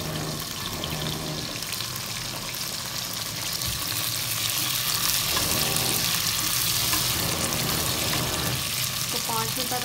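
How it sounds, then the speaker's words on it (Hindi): Okra (bhindi) frying in a pan, a dense, constant sizzle and crackle heard up close, with faint kitchen sounds mixed in. "भिंडी फ्राई करने लगी है।"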